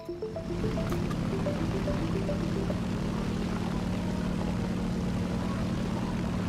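War Thunder bomber aircraft in flight, a steady propeller-engine drone with low throbbing hum held constant throughout, loud and continuous with no talk.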